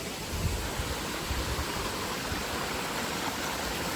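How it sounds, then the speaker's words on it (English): A waterfall pours in a steady, close rushing wash of white noise, unbroken and fairly loud, with no voices over it. "Look at this waterfall."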